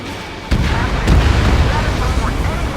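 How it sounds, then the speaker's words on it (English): Bombs exploding in the combat flight game Ace Combat 7 during a raid, two sharp blasts followed by a sustained roaring rumble that stays loud to the end. "Stroder 1, bombs away."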